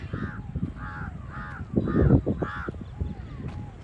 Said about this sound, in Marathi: पकडू नको कावळा